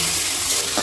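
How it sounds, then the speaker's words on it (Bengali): Rohu fish frying in a wok as it is flipped over in hot oil, a brief loud burst of close sizzling with a slight scrape near the end. "মাছটা উল্টে দিচ্ছে।"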